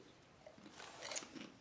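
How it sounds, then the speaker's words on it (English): Someone is chewing and munching food close to the mic. The crunching bites are quiet and irregular, with no one talking. "I'm munching."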